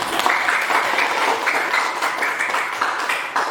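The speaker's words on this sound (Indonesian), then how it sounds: "Give applause ya." Steady applause from a classroom of students at a teacher training session, a dense wash of many hands clapping close and continuous for the full length with no talking.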